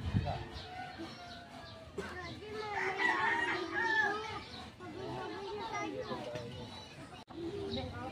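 A rooster crows close by while children play and people talk in the background.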